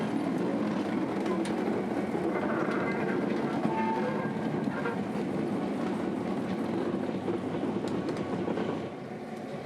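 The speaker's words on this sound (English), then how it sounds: "she's off, crawling out of the yard at Willow and towards the old Seaboard main line" Locomotive 8330 crawls out of the rail yard at Willow on the Florida Railroad Museum line. A steady, moderately distant rumble of wheels and engine carries faint rail clatter throughout.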